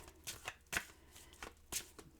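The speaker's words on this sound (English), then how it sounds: "I'm going to shuffle and deal you an Angel Oracle card." Angel Oracle cards being shuffled by hand, heard as a series of soft, papery riffles and slaps spaced roughly every half second, close and fairly quiet, with no voices.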